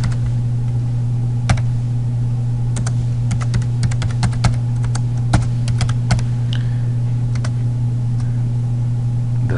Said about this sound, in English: I'm going to type the name of the commercial.